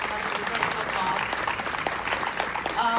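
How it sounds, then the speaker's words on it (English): Audience at a film panel applauds a screenwriter's first produced script, a steady wash of clapping with crowd noise and some voices blended in. "Yes, definitely deserves an applause."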